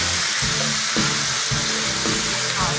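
Food sizzles loudly in a hot pan, a dense crackling hiss with brief stirring scrapes at regular moments, close and continuous.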